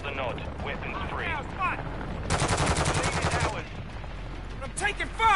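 A PS4 team deathmatch firefight with a dense, sustained machine-gun burst in the middle, scattered shots around it over rumbling background noise, and voices talking underneath.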